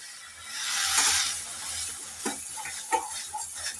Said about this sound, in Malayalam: അപ്പോൾ നമുക്ക് നന്നായിട്ട് ഇതൊന്ന് ഇളക്കി കുറുക്കിയെടുക്കണം